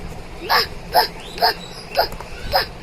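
A voice imitating a dog barking, five short evenly spaced woof-like yelps over about three seconds, close and fairly loud against quiet room background.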